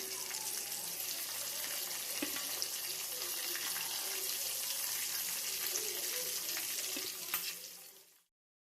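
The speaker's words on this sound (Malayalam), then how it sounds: "നമുക്കിതുപോലെ ബാക്കിയുള്ള ചിക്കൻ പീസും പൊരിച്ചെടുക്കണം." Chicken pieces for tomato chicken fry in hot oil with a constant, dense sizzle and crackle, close and steady, with occasional clinks before the sound cuts off abruptly at the end.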